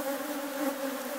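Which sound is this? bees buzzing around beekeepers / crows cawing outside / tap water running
bees buzzing around beekeepers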